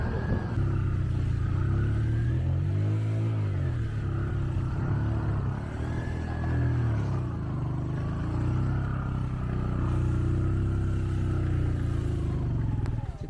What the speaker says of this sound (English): What kind of motorcycle is this?